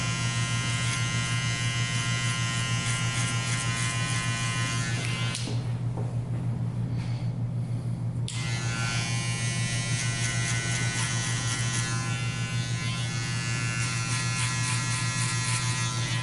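Close, steady electric hair clippers buzz continuously while fading a haircut, with the pitch and load shifting briefly partway through as the blade works the hair.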